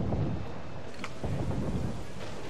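A thunderstorm at sea in Assassin's Creed IV Black Flag: rumbling thunder rolls under heavy rain and wind, with a sharper crack near the middle, loud and close.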